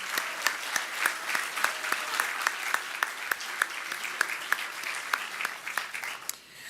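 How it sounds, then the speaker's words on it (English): An audience applauds the graduating Class of 2025 at a DPT white coat ceremony, steady close clapping with distinct sharp claps standing out, fading near the end. "Let's give the class of 2025 another round of applause"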